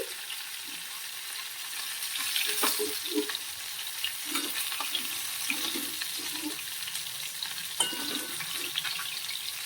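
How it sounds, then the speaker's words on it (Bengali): Fish sizzles in hot oil, a steady moderate frying hiss with scattered clinks and scrapes of a utensil against the pan as pieces are turned and lifted, no voices. "মাছগুলো ভাজা হয়ে গেছে, এবার তুলে নিচ্ছি"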